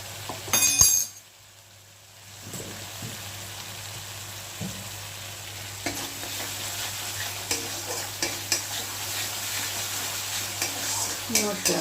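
Spice paste for a Bengali eggplant kofta malai curry sautés in oil, giving a low, steady sizzle with scattered clinks and scrapes of stirring. A sharp clatter near the start is followed by a brief quiet stretch.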